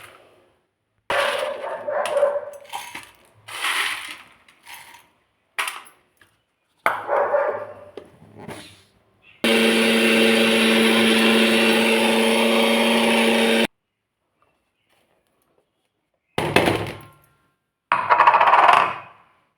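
Dried raw banana being ground to powder in a kitchen mixer: a steady, loud whirring grind of about four seconds mid-clip, surrounded by short clattering bursts of the dry pieces rattling in the jar, with no talking.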